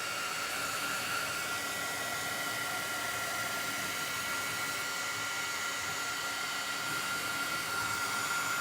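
A hair dryer blows a steady, loud, even whoosh over the paper tag of a handmade wooden picnic basket, running without a break for the whole stretch.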